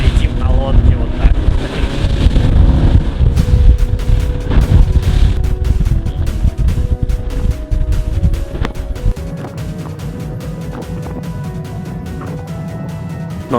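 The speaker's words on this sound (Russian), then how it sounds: "когда мы летим на лодке вот так." Motorboat speeding across open water on a Patagonian lake tour in Chile, with a steady loud engine drone, hull slapping and heavy wind rushing over the microphone throughout.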